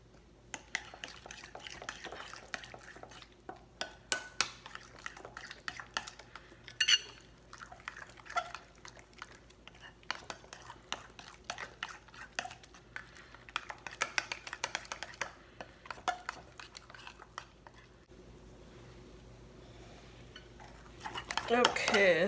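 Spices including green cardamom and garam masala are stirred together in a bowl for a mutton chop marinade. Repeated clinks and scrapes of a utensil come in irregular bursts, fairly close and moderately loud.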